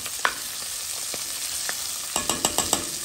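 Onions frying in a pan for a herring rougail, a continuous close sizzle with several sharp spoon clicks and scrapes against the pan near the end, no talking.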